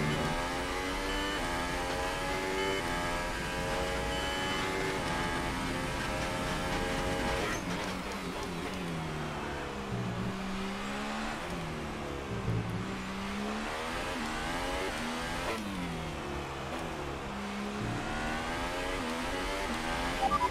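An F1 race car engine screams through a qualifying lap in the F1 2018 video game at the Mexico Grand Prix. The high, continuous whine rises and drops repeatedly through gear shifts and braking for the whole stretch.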